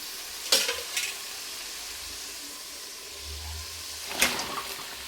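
Chopped Malabar spinach and eggplant are tossed into spiced oil in a pan and stir-fried. A soft sizzle runs throughout, broken by a couple of sharp clatters at the start and another near the end.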